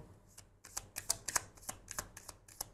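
A deck of tarot cards is shuffled in a run of crisp, close riffling bursts, quiet and unaccompanied by speech.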